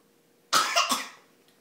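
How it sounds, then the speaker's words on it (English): A single short cough, close and fairly loud, in an otherwise quiet room. "Cover your cough."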